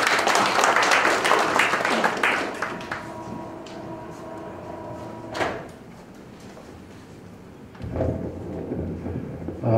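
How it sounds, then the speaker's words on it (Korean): Audience at an environmental awards ceremony applauding to welcome a speaker, a loud burst of clapping that fades over about three seconds, followed by quieter room noise, a thump and renewed rustling. "박수로 맞이하시기 바랍니다."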